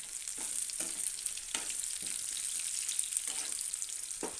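Dried red chillies and curry leaves sizzling and crackling in hot oil for chana dal masala curry, a steady close fry with periodic bursts of stirring and spattering.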